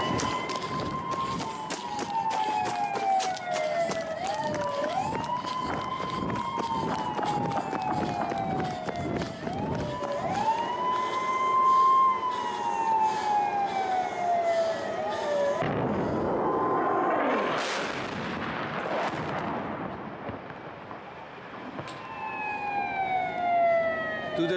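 Several wailing emergency sirens rise and fall continuously over busy street noise after an explosion, loud and close, with a burst of rushing noise midway.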